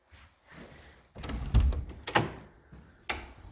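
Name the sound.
screen door opening or closing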